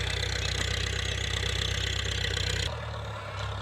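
A Ford 6600 farm tractor engine runs close and loud with a steady chugging idle, then its tone shifts and softens abruptly near the end.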